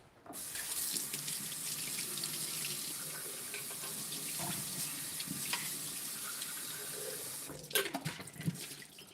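Water running from a kitchen faucet into a pot while making lentil and farro soup: a steady, close rushing stream lasting several seconds, then a brief splashy burst as the flow ends.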